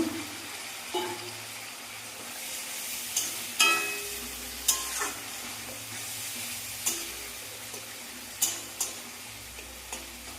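A tomato drops into hot oil with ground spice paste for a Bengali prawn curry, and a soft, steady sizzle runs underneath. A few sharp utensil taps and scrapes stand out near the pan, and no one speaks.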